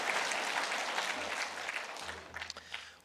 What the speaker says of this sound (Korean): 예, 박수를 한번 보낼까요?